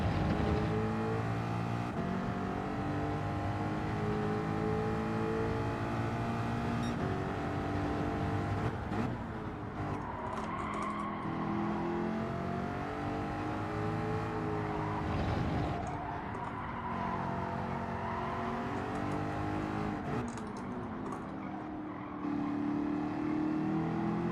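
GR4 Team Tourer race car engines at Autopolis in Gran Turismo 7 roar steadily and loud throughout, with pitch rising and falling through gear shifts and brief throttle lifts around a lap.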